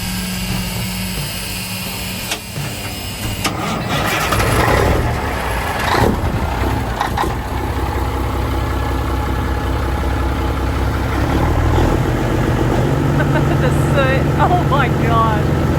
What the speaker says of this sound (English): Aaron's going to take a little break and get the Peterbilt moved inside for us.